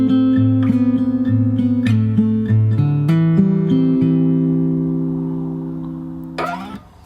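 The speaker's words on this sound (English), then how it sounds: "So I'll play the first 2 bars of the verse." Fingerstyle acoustic guitar plays the opening verse bars of a song: plucked bass notes under repeated higher picked notes in a steady rhythm, close and clear, ringing out and fading before a final strummed chord.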